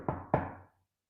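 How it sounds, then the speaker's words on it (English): Two quick knocks on a table, close and hollow, the second slightly louder, then quiet. "That's just me tapping on the table, by the way."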